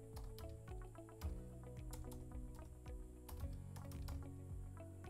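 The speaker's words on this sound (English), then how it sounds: "I have to type this in German." Quiet typing on a computer keyboard, a quick irregular patter of key clicks running steadily throughout, close and soft with no talking.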